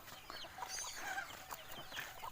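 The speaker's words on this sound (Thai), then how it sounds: "เป็ดไก่ก็พอดีวนซนแซวอยากกินเหยื่อเนาะ" Chickens and ducks cluck near a farm field, moving about restlessly and eager for feed, with soft overlapping calls of moderate loudness and no talking.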